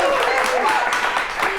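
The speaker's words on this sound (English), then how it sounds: "So let's give her a round of applause" Brief burst of studio audience applause welcoming Paula Abdul in Tucson, steady clapping with a voice talking over it.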